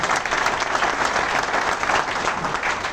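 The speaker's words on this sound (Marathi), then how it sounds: "इर्षाद सरांसाठी एकदा जोरदार टाळ्या वाजवा" Loud, sustained applause from an audience honoring Irshad sir at a speech event, dense clapping that continues steadily throughout without a break.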